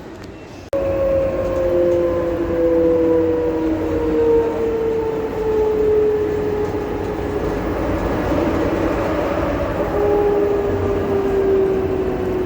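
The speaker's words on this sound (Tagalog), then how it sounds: "The train is approaching the station." An airport shuttle train at Jeddah airport arrives at the station, a loud sudden onset giving way to steady rolling rumble with long gliding tonal whines that slowly fall in pitch as it slows.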